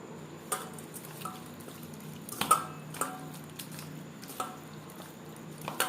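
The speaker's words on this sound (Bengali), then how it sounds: "বেশ ভালো করে মেখে নেব" Chicken is kneaded by hand with salt and pepper for satay, giving soft, wet squishing and squelching sounds in an irregular rhythm, close and fairly quiet.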